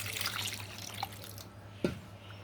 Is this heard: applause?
no